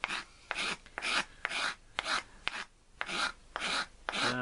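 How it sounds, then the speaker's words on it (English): A scraper is drawn across the surface of a wooden Sorrento box being restored, giving about nine close, rhythmic rasping strokes with short gaps between them. "Don't dig into it, just feel it scraping across and almost like planing"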